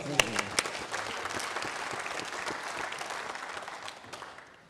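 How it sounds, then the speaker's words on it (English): An audience breaks into applause, steady clapping from a crowd that fades slightly toward the end. "I think that's worth a round of applause."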